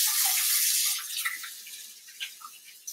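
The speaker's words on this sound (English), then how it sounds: "let me wash my hands" Tap water runs over hands being washed in a kitchen sink, a close hiss that is strongest at first, then breaks into uneven splashes and trickles as the hands move under the stream.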